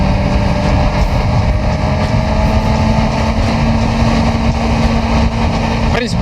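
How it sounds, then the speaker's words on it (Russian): A 2022 Kawasaki Z900 motorcycle with an aftermarket exhaust runs at high revs, giving a steady, dense engine and exhaust hum that holds constant and loud throughout. "этот мотоцикл работает на 7000 оборотах, как Брутали на 3, этот гул"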